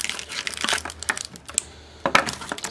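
A 2007 Rookie Exquisite trading card box's pack being torn open, with close, irregular bursts of crinkling and tearing foil in a quiet room.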